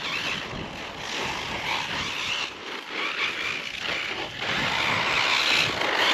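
A Hyper 10TT radio-controlled car runs outdoors with a busy, hissing motor and tire noise mixed with wind buffeting on the microphone, steady with brief dips.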